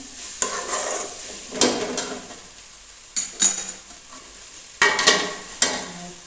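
Fenugreek leaf curry frying in a pan is stirred in bursts, each stroke a close, sharp scrape and clatter of spoon on metal, about five of them spaced across a few seconds, with a soft sizzle between them.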